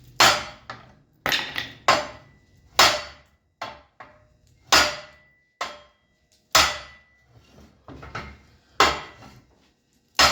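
A big hammer pounds on the steel frame of a Western snowplow under repair, about a dozen loud, close metallic whacks at an irregular pace, each ringing briefly before the next strike.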